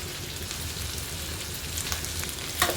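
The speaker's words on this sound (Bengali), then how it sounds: "এবার একটু ভালো করে নাড়তে লাগলাম" Turmeric-coated basmati rice with cashews and raisins is stirred in a hot pan for pulao, giving a steady close sizzle with a brief sharper scrape near the end.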